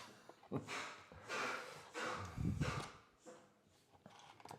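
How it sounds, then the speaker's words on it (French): Close, quiet sniffing by a dog in short bursts of breathy snorts, with a few rapid inhales and pauses between them and no one talking. "le bruit bizarre, c'est le chien qui renifle."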